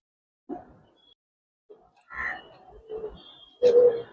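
Giribaz pigeons coo in a loft, several soft separate coos and low burbling calls coming close and alone in quiet, the last one louder and fuller.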